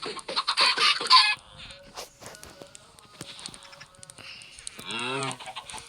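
Chickens in Minecraft cluck and squawk in a busy cluster, with a burst of clucking at the start, scattered tapping, and a longer rising cluck near the end.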